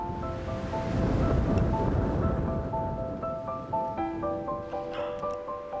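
Steady rushing mountain wind roars loudly over snow-covered Daegwallyeong pass, about 1000 m up in Pyeongchang, South Korea, with soft music playing over it.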